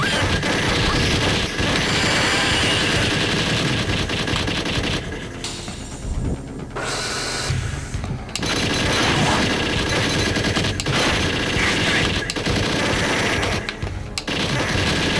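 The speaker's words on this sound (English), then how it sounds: "I'll just keep spamming my grenades because I hate this section of this game right here." Grenades explode in a light gun arcade game against swarms of alien eggs and chest bursters, a dense, loud, continuous barrage of blasts and gunfire with two short lulls.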